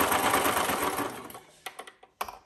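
A sewing machine runs steadily while top stitching over fabric binding, a loud continuous whir that stops partway, followed by a few short bursts of stitching and light clicks.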